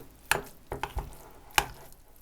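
Salad ingredients are being mixed in a bowl, producing a few close, irregular clacks and soft scraping strokes of a utensil, with no voices.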